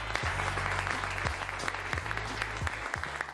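An audience applauds a winner at a business pitch casting event, steady crowd clapping heard fairly faintly over a low, rhythmic background hum with periodic thumps.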